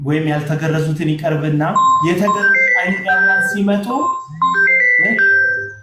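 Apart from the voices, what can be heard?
phone ringing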